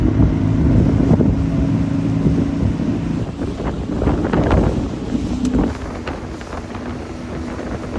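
A small motorboat pulls out of a harbour on its way to a tetrapod breakwater, its engine rumbling steadily under heavy wind buffeting on the microphone, close and continuous before easing slightly toward the end.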